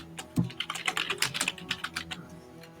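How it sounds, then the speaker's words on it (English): Loud, fast typing on a computer keyboard during a tabletop D&D game session, a dense run of sharp clacking keystrokes in quick irregular bursts, close to the mic with no talk over it. "we hear you typing very loudly"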